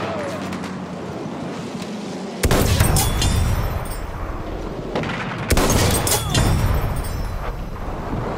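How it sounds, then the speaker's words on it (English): Machine gun fire and battle noise from the Battlefield 1 video game on PS4, with dense bursts of loud gunfire and booming blasts that surge in waves, mixed with shouted voices. "Enemy machine gun over there!"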